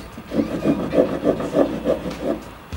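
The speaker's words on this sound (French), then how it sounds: "je vais commencer à scier les barreaux" Steady back-and-forth sawing on metal bars with a hand tool, about eight even rasping strokes in a regular rhythm, close and fairly loud.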